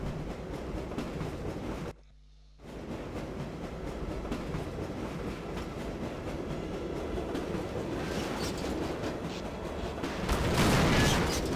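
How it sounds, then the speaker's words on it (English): A train in the video game Half-Life rumbles steadily with a broad, continuous roar, briefly cutting out near the start, then swelling louder with hissing toward the end; no one speaks. "Get into the damn train, CJ!"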